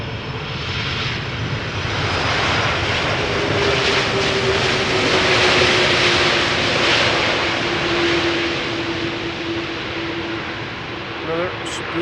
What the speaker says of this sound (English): Now, this airplane is arriving from Bonaire, 9 hours and 5 minutes on the way.